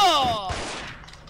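A single loud shotgun blast from a video game, sharp and close, with a quick ringing decay.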